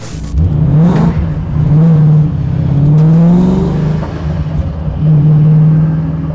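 A 900bhp Ford Mustang drift car on a race track, its engine loud and close, revving and rising in pitch through repeated accelerations and gear changes, with no talk over it.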